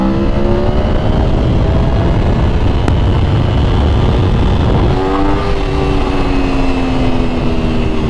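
Aprilia Tuono V4 Factory motorcycle cruising gently in second gear: a steady, close, loud engine drone with a broad rush of wind noise. The pitch holds level, then shifts slightly midway.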